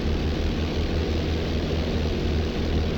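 A P-38 twin-engine propeller airplane in flight over the Grand Canyon, its engines producing a loud, steady, unbroken roar and drone with no gaps or talking.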